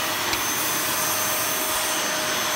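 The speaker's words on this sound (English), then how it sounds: "we can even give it a go because I think there's suction" Dyson DC05 upright vacuum cleaner running with suction, a loud, steady whooshing whine held close and unbroken throughout.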